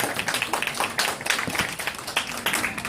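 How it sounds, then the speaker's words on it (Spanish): Applause for a group of participants at a legal-rights workshop, uneven bursts of clapping from a modest crowd nearby, rising and falling in loose, irregular waves. "nuevamente un fuerte aplauso del partido"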